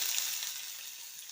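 Mustard seeds and onion frying in about two spoons of oil, a continuous bright close sizzle with no talk over it.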